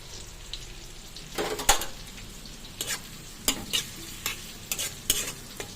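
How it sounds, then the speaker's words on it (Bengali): Rohu fish fries with onions in a pan, a steady low sizzle broken by repeated scraping stirs of a spatula, close and clear with no voices. "এই যে রুই মাছ ভাজা হচ্ছে"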